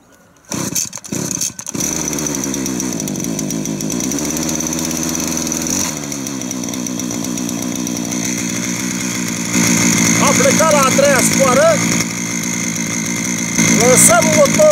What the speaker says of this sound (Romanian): acum facem o pornire la Husqvarna 535RX.